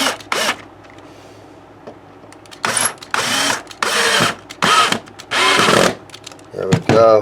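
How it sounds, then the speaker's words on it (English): Several short bursts of a power drill whirring during repair of a 1960s Teisco guitar, loud and close, stopping and starting in an uneven rhythm. "Just using my drill."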